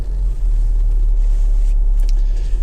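Honda HR-V 1.6 i-DTEC diesel on a road test, a loud, steady low rumble of engine and road noise from inside the car, continuous throughout with no speech.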